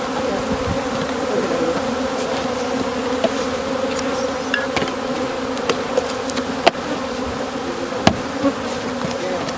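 Honeybees gathered into a container for a mite check buzz in a dense, steady, continuous hum, with a few sharp clicks and taps from the container.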